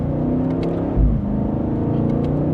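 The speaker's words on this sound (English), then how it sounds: "And then a great sound with that V8." BMW M8 Coupe V8 engine giving a steady, deep rumbling rev with a brief swell near the middle, heard close and loud with no speech over it.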